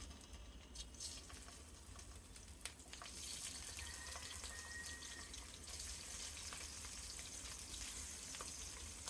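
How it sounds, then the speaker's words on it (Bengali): Tengra fish coated in turmeric and salt fry in oil, giving a faint, steady crackling sizzle that swells slightly after a few seconds and carries on evenly, with no talking. "হলুদ লবণ মাখানো মাছগুলো আমি এবার ভেজে নেব।"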